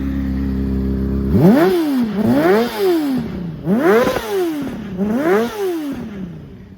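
A 2008 Honda CBR600RR sport bike in neutral, its engine idling and then revving loudly and close up in four sharp rising-and-falling blips.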